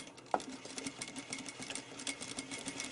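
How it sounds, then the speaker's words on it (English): A sewing machine stitches along a folded fabric tuck, a fast, steady mechanical whir with rapid needle ticking, close and continuous. "and then simply sew along"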